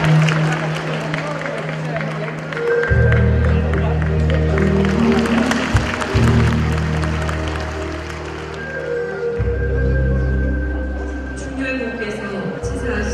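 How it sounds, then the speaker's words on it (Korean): An audience at a Korean commemorative ceremony applauds to welcome an Andong MBC reciter, clapping spread through the hall under strong tonal music or drones and some voices. "여러분 박수로 환영해 주십시오."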